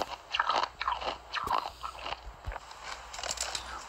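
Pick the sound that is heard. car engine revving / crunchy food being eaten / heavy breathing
crunchy food being eaten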